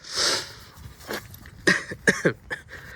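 A sick person coughs several times in short, close bursts, with a nasal sniff at the start, during a 2001 Toyota Corolla exterior detailing job.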